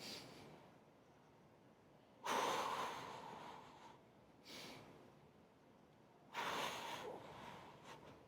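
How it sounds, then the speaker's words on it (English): Slow, deep breaths during an abs and core workout, heard as two long, loud exhales separated by quiet inhales and a short breath between them, close and alone. "Deep breaths in and out."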